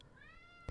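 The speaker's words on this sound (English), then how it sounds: "So if you hear him meowing, that's what that is." A cat meows once in a rising, drawn-out call, faint and a little distant over a quiet room hum, followed by a brief louder bump near the end.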